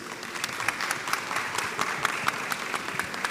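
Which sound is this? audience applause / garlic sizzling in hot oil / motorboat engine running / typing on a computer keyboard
audience applause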